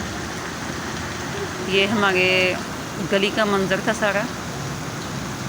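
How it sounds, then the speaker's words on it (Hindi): Heavy rain pours over rooftops and narrow lanes on an early morning, a steady broadband hiss running throughout while someone talks over it. "आपको बारिश की आवाज़ आ रही होगी।"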